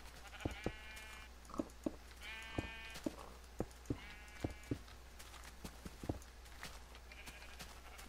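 Minecraft sheep bleat several times in short bursts while hollow footstep-like clicks tap irregularly, all fairly quiet.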